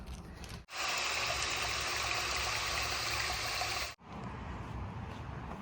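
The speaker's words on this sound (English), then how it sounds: "I'm gonna let the water flow into that" Water from a tap runs in a steady, loud stream into a plastic bag for about three seconds, then cuts off abruptly.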